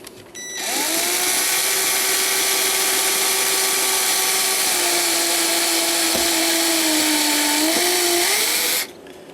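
A 2.97 reamer turns through a brass part from an 1890 kitchen clock, producing a loud, steady machine whine with a constant humming tone that runs unbroken for about eight seconds before cutting off abruptly.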